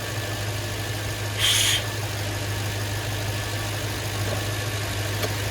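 Toyota Tundra engine idling with a steady low rumble and constant hum, close and unbroken, with a brief hiss about a second and a half in and no talking.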